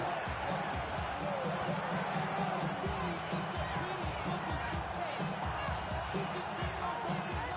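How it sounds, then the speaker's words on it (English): Stadium crowd noise in a Madden football video game, late in the fourth quarter, forms a dense, loud, continuous roar of cheering and chatter that stays level from start to end. "this crowd doing their best to make a lot of racket"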